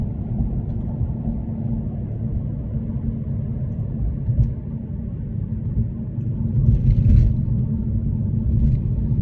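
Porsche 911 of the 993 generation heard from inside while driving, a steady low engine and road rumble that swells slightly louder in the final seconds, with no talk.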